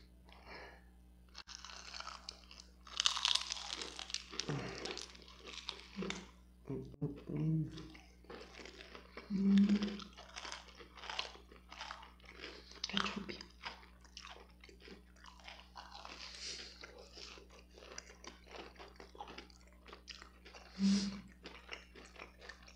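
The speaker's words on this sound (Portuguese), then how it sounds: "Escuta a crocância." Crunchy fried cheese sticks with smoked calabresa sausage are bitten and chewed up close in a series of crisp crunches and wet chewing sounds, with soft talking between bites.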